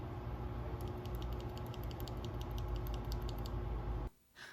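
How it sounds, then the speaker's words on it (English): Loose red linear mechanical keyboard switches are pressed by hand, making a rapid run of light plastic clicks and clacks over a soft background hiss that stops abruptly near the end. "Here are a few extra switches, and this is what they sound like on their own."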